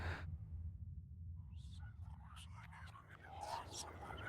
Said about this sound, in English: There's like whispering as well.